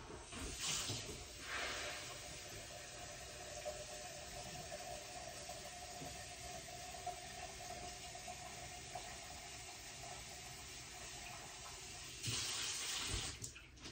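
Tap water runs steadily into a container while sugar water is being mixed in a home kitchen, a continuous soft hiss with light splashing at start and end.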